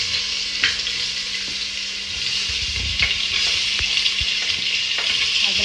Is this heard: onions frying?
yes